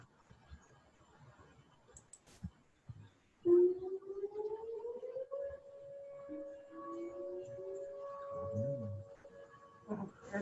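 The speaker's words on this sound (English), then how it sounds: "There's sirens." A siren wails in the distance, rising and holding a long steady tone, faint behind quiet background noise and occasional voices.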